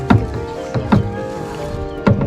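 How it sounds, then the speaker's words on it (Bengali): A kayak or rowboat moves along the Karnaphuli River near Kaptai, Bangladesh, with three distinct paddle strokes splashing and knocking close by at a steady pace, and faint water sounds between them. "এই নৌকা চালাও"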